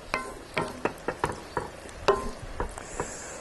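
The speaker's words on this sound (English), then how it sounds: "I've got the zucchini fries here, frying in the 370 degree peanut oil." Zucchini fries frying in 370 degree peanut oil in a cast iron pan, with a series of distinct crackling pops and stirring clinks at irregular intervals over a quiet sizzle.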